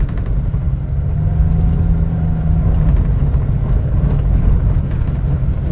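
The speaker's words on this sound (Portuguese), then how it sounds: "O carro tranquilo aqui, você vai acelerando, ele vai subindo tranquilamente." A JAC T40 car climbs a hill, its engine droning steadily from inside the cabin under acceleration with a faint rising tone, accompanied by road rumble and no talking.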